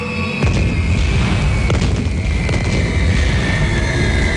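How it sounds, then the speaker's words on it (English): A movie explosion effect: a sudden loud boom followed by a heavy, sustained roaring rumble that fills the whole stretch. "you let off a couple of cherry bombs in an empty casket"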